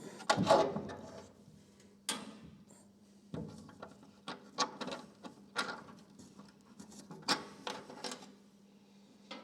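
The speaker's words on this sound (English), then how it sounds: "I'll take the door off so we've got some room." Door being removed from a Maserati Mistral in a fabrication workshop: a string of sharp metallic clunks, knocks and rattles at close range, irregular over several seconds, with a steady low hum underneath.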